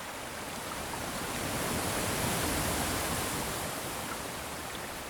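Marshland ambience from a Krotos Studio Genesis sound pack with the wind raised: a loud, broad, continuous whoosh of wind over water, swelling slightly in the middle and staying steady, with no other distinct events.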